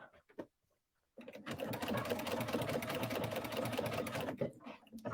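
A sewing machine fitted with a side cutter foot stitches in a steady, fast whirring run of about three seconds, close by, framed by a few brief knocks and handling sounds before and after.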